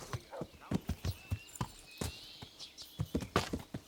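Horse hooves from the video game Kingdom Come: Deliverance clip-clop in a quick, uneven rhythm of sharp knocks, fairly close, with a soft snort or whinny in the background.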